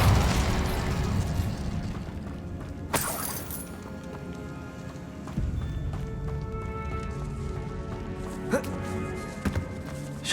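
The Incendio fire spell from the video game Hogwarts Legacy goes off in a single sharp, loud burst, with smaller impacts and rumbling game ambience after it.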